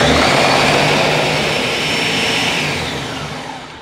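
A countertop blender runs steadily on flan ingredients, a loud continuous whirring roar that holds level for several seconds and eases off slightly toward the end.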